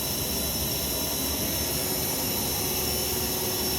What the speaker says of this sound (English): That tire is just spinning